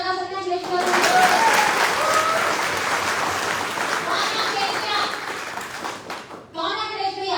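An audience at an OK Life Care training session in Kashipur, Uttarakhand bursts into sustained applause for a top earner. The clapping swells quickly and holds for several seconds, then fades, with a voice speaking briefly at the start and again at the end.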